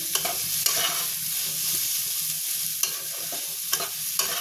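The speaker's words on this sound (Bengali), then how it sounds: "আমি এখন ভালোভাবে সবটা মিশিয়ে নিই" A spoon stirs cheese, egg and paneer bhujia with spices in a frying pan, giving a constant close sizzle with soft scraping strokes repeating throughout.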